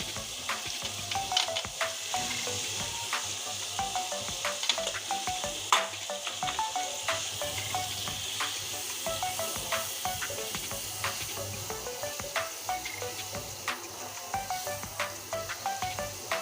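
Bitter gourd slices frying in a pan with salt and turmeric make a continuous crackling sizzle, dotted with frequent sharp pops and spatters, alongside a faint low steady hum.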